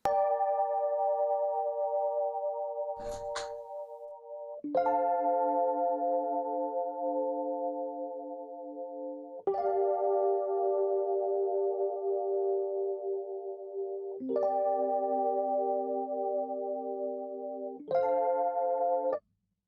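Sustained Rhodes-style electric piano chords from the Scarby Mark 1 Kontakt preset, a slow progression of about five held chords with soft attacks and a brief higher bell-like tone early on, played alone at moderate volume.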